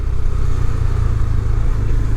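A KTM 390 Adventure motorcycle engine drones steadily while riding, loud and close, a low rumbling throb that holds an even pitch throughout.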